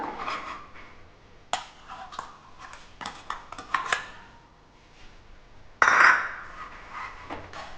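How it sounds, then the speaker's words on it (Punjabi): Sugar stirred into roasted wheat flour in a pan: irregular close scrapes and taps of a spoon against the pan, with one louder clattering scrape near the end. "ਖੰਡ ਪਾ ਕੇ ਅਸੀਂ ਆਟੇ 'ਚ ਚੰਗੀ ਤਰ੍ਹਾਂ ਮਿਕਸ ਕਰ ਲੈਣਾ"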